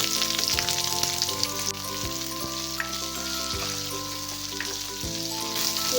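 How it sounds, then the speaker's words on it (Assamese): Onions fry in hot oil for poha, giving a steady, close sizzle that runs continuously with faint stirring scrapes. "পিঁয়াজখিনি অকণমান ৰংচোৱা হোৱাকৈ ভাজি লওঁ।"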